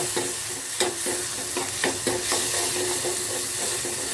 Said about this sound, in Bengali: এখন আমি মশলাটাকে ভালো করে মিক্স করে দেব।